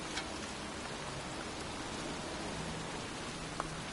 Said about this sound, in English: It's cold. It's raining. I'm standing outside getting soaked.